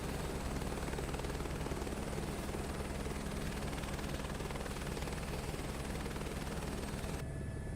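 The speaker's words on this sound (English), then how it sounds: "We got a helicopter." A helicopter in Microsoft Flight Simulator 2024 runs with a steady rapid rotor chop and engine whine, constant and close throughout before cutting off abruptly at the end.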